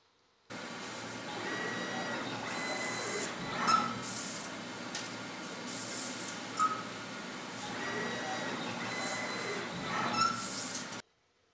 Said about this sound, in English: Cutting cells by a laser cutting machine is an additional process we use for manufacturing the smaller panels